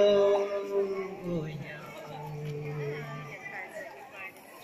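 A dog howls in long, wavering tones that rise and fall, close and fairly loud, and a person speaks briefly over it.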